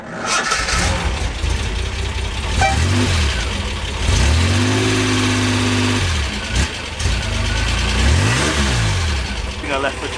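A Reliant car engine cranks, catches and revs up and down during a test drive, loud and close with rising and falling pitch sweeps, while a person talks over it.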